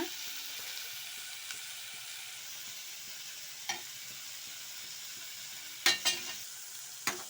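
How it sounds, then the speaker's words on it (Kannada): Semolina (rava) dry-roasting in a pan gives a faint, steady hiss, broken by a few soft scrapes and taps as it is stirred, with sharper knocks near the end. "ರವೆನ ಚೆನ್ನಾಗಿ ಡ್ರೈ ರೋಸ್ಟ್ ಮಾಡ್ಕೊಂಡು ಹುರ್ಕೊಬೇಕು"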